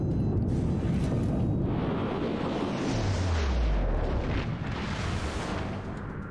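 Battleship main guns boom in World of Warships aboard the Missouri, heavy rumbling blasts and deep rolling thunder with a low descending roar, loud and continuous throughout.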